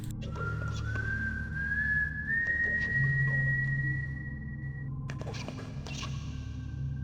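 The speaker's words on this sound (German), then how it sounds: "aus dem Fenster schauen und jemandem beim Pfeifer zuhören" A single long whistled tone from a person in the video game Dark Fall: The Journal rises slowly and holds steady for several seconds over a low background hum, with faint clatter afterward.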